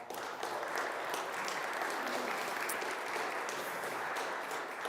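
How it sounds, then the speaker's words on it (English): Steady applause from a church congregation at an annual parish meeting, a dense wash of many hands clapping throughout without a break, fairly even in level and heard alone without talk. "They're clapping for you."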